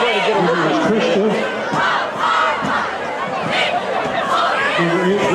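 A pink-out night crowd at a high school football game, Wyoming Area versus Lake Lehman, roars and shouts steadily in the stands, a dense wash of many voices cheering with chatter mixed in throughout.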